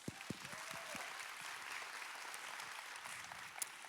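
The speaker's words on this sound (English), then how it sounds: "Let's all give them a round of applause." An audience at a women's leadership conference applauds, giving a soft, distant, steady wash of clapping with a few sharper individual claps near the start.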